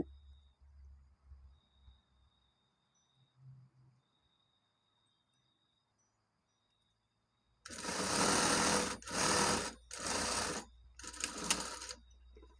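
A sewing machine stitches a buttonhole placket. After several near-silent seconds, a series of loud, close bursts of rapid stitching start and stop in quick succession.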